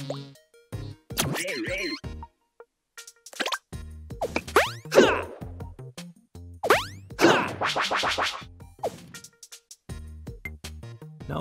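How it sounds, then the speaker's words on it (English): Cartoonish jump sound effects in the Game Builder Garage video game, several short plops and boings with bright pitch sweeps, spaced irregularly among game music and other effects. "We can also add a sound effect to help sell the jump."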